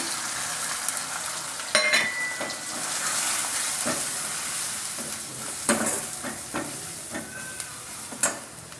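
Tomatoes sauté with ginger and garlic in a pan for a Maharashtrian cauliflower curry, giving a steady, moderately loud sizzle. Intermittent scraping and clinks of a stirring spoon punctuate it, and no one speaks.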